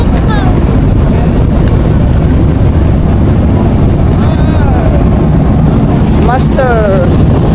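Steady wind roars and buffets the microphone on an open boat ride past tropical islands, with a motor humming underneath and faint voices briefly rising over the rush.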